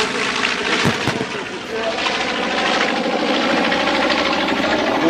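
A fighter aircraft taxis out toward the runway at the 2021 CAF Airshow, its loud, rumbling engine droning steadily and close, with an announcer's voice talking over it.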